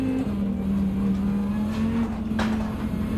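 Race cars in Gran Turismo 7 during a daily race at Suzuka hold a loud, steady engine drone, with a brief rushing whoosh of a car passing late in the clip.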